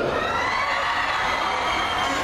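Crowd shouting and cheering for the pop group OV7 at an outdoor September 15 celebration in Coyoacán, a dense, steady roar of many voices at moderate level throughout.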